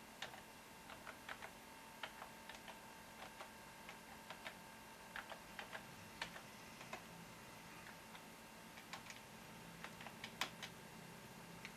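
A Wi-Fi passphrase is typed on a thin client's computer keyboard as soft, irregular key clicks in short bursts, close and quiet over a steady background hiss.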